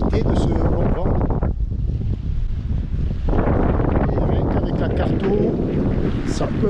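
Strong wind buffets the microphone aboard a sailboat navigating among the Bijagós Islands, a loud, continuous roar with gusty rises and a brief lull, with water noise and a voice talking beneath it.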